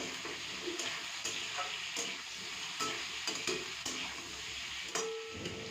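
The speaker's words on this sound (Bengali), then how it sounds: "তাই জন্য আগে আলুটা ভেজে নেব লালচে করে" Potato pieces frying in a pan until reddish, with a soft, steady hiss and small, scattered pops and clicks from stirring, fairly quiet and without speech.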